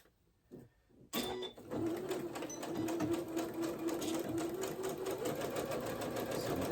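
A sewing machine back stitches a fabric tie strip for pajama pants, starting after a quiet second with a fast, steady mechanical whir and needle clatter, close and continuous.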